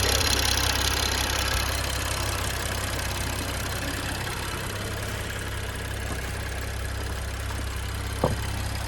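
A BMW N55 car engine idles while warming up, a steady low rumble with a faint ticking texture, close and alone, with one brief knock near the end.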